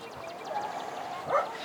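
A dog being trained for leash reactivity gives a couple of faint, short barks, the loudest one near the end, heard from a little distance.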